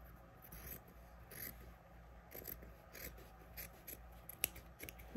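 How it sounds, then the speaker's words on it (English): Sharp scissors snip and trim fabric while a garment is being finished, a run of quick, close crisp cuts in an irregular rhythm over a quiet background, with no talking. "You want to be careful that you're not cutting something you don't mean to cut."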